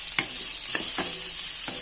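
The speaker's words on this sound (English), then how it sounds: "this is the finely fried onions, and I'm going to fry it till it becomes a little pale but not brown" Finely chopped onions fry in a pan, cooking until pale but not browned, with a steady sizzle under a few short scraping stirs of a utensil spaced across the moment.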